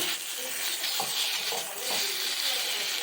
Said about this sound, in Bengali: ডিমের ঝোলের জন্য আলু দিয়ে মশলাটা কষে নেওয়া হলো।